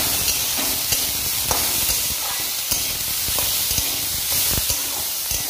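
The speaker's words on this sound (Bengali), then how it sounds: "করলাটা ভেজে নিই, লবণ হলুদ দেওয়া হয়ে গেছে।" Bitter gourd seasoned with salt and turmeric fries in a pan, giving a steady close hiss and sizzle with occasional soft clinks and stirring sounds, no voices.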